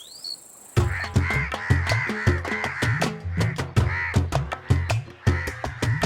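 A great-tailed grackle (Maríamulata) calls in a rapid series of loud, harsh, crow-like caws and clacks, close by and repeated steadily for several seconds after a brief quiet start.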